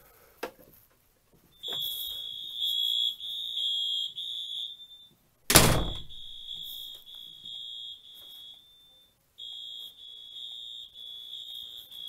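A Simplex 4010 fire alarm system sounds during a smoke detector magnet test: a loud, steady, high electronic tone comes in long blasts with brief gaps, interrupted midway by a sharp clunk.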